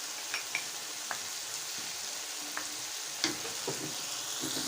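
Cream goes into a pan of frying ginger chicken, raising a steady, close sizzle with scattered sharp pops and crackles throughout.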